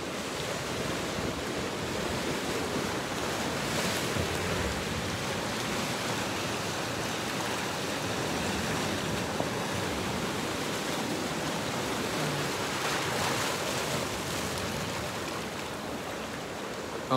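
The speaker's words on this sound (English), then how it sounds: "I'm at Polsey's Beach in Cornwall" Waves wash continuously onto Polzeath Beach in Cornwall, a broad, steady roar of surf mixed with wind buffeting the microphone, with no distinct breaks.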